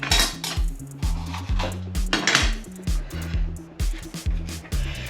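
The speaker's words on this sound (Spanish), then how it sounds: "Vamos a picar el pimiento rojo" A knife chops red bell pepper on a board in a home kitchen, cutting up vegetables for tuna empanadilla filling, giving a steady run of close, sharp knocks and clicks with a few louder strikes.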